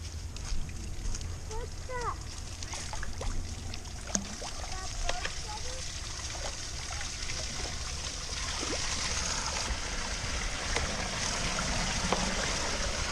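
Water flowing out of an overflowing pond through a cut channel, a steady trickling and gurgling stream heard nearby, continuous throughout and growing slightly fuller, with outdoor background noise.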